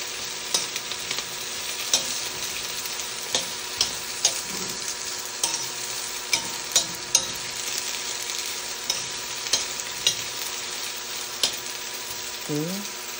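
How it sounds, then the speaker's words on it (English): Beans frying in a pan on a home stove for kare kare, a soft, steady sizzle with regular scraping stirs and light clinks of a utensil against the pan. "first I need to fry"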